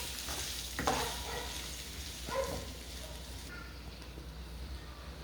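Food sizzles steadily in a frying pan while a spoon stirs and scrapes through it, with a few brief clatters standing out over the continuous hiss.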